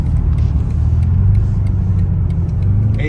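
A BMW G99 M5 Touring with steering in sport mode brakes hard on a road on-ramp, its engine a steady, loud low rumble close inside the cabin, with no talking.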